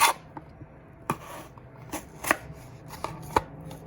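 A knife cuts a peeled potato into wedges on a board, a handful of sharp, close thunks spaced irregularly over a quiet background, no voices.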